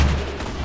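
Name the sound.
grenade explosion in a battle royale video game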